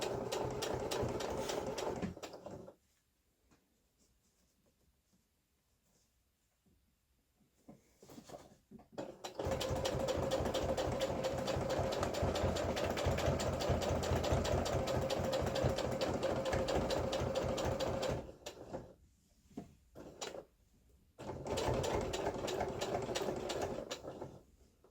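A sewing machine stitches handwoven huck lace napkin cloth in a steady, rapid mechanical whir, running a few seconds, pausing, then sewing again in a long continuous stretch and a final short burst, close and clear.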